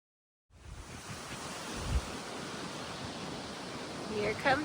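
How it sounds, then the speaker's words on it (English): Strong gusting wind buffets a mountain ledge on the Appalachian Trail, a loud, continuous broadband roar against the microphone with a couple of stronger gusts and a faint voice near the end. "It's so windy."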